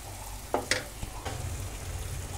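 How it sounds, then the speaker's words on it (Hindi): Spices frying in hot oil in a pan for a no-onion, no-garlic vrat aloo sabzi, a steady low sizzle with a few sharp stirring clatters near the start, no voices. "और ये देखिए मसाले अच्छी तरह से भुन गए हैं, मसालों से तेल अलग होने लगा है।"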